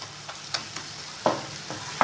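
Spices with rock salt, turmeric and chili powder frying in a pan, with several sharp scrapes and clacks of a stirring spoon over a soft background sizzle, close and unaccompanied by talk.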